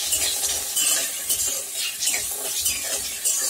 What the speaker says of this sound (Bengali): বড়িগুলো এবার লাল লাল করে আমি ভেজে নেব।